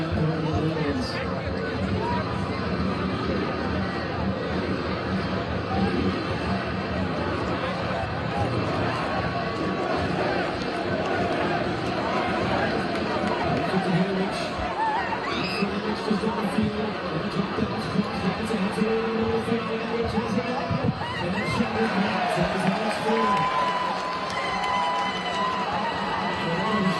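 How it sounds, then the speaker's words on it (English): Crowd of World Cup fans at a watch party in Washington for USA vs Bosnia and Herzegovina, a steady dense hubbub of murmuring voices and chatter with occasional rising reactions, continuous and fairly loud throughout. "The crowd responding as well."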